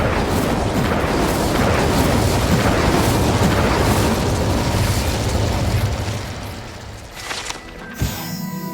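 An Incendio fire spell in Hogwarts Legacy roars as a sustained, loud burst of crackling flame and rumble that fades after several seconds into quieter pops and a sharp thump.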